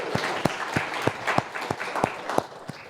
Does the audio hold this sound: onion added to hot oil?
no